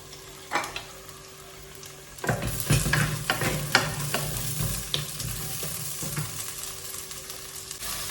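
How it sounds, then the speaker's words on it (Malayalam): Okra for sambar fries and is stirred in coconut oil in a pan. A soft lone clink comes first, then a steady sizzle starts with repeated scraping stirs and clanks of a spoon against the pan, close and fairly loud. "ഇനി നമുക്ക് സാമ്പാറിനുള്ള വെണ്ടയ്ക്ക അവിടെ വറുത്തുകൊണ്ടിരിക്കുന്നുണ്ട്"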